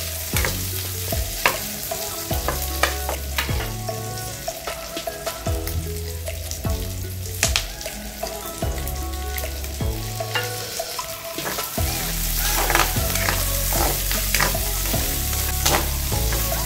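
Six whole unpeeled garlic cloves frying in a pan for Filipino adobo, a steady loud sizzle with repeated stirring scrapes and clatters, growing denser near the end, with no talk.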